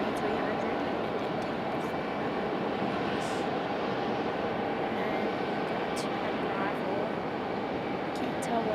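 A Breeze Airways Airbus A220-300 airliner gives a steady, continuous engine drone at moderate distance, unbroken throughout.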